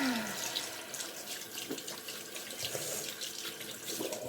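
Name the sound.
water running from a tap while rinsing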